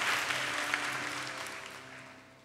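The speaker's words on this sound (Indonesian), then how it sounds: "Kasih tepuk tangan yang paling meriah" A church congregation gives a brief round of applause during a sermon, the clapping fading steadily over a couple of seconds beneath a faint sustained tone.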